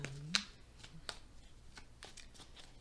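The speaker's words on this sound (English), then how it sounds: "I'm gonna give a couple more shuffles" Quick riffling of a card deck, a crisp burst near the start followed by softer shuffling flicks, close and fairly quiet with no talking.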